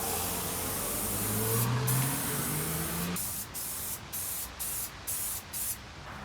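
Spray gun laying a third coat of paint on a BMW E36 318ti, a steady loud hissing spray for about three seconds, then short bursts of spray with brief pauses between them.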